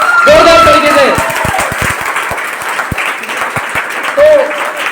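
Audience at a lively Hindi motivational speech event clapping and applauding, a dense patter of many hands alongside a few sharp single claps, with a voice speaking over it at the start and again near the end.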